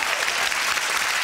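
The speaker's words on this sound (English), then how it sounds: "I think there's a little extra clap there because she's the only one left." Studio audience on a UK TV game show applauding a contestant, a dense, steady wash of clapping from a crowd, loud and unbroken with no talking.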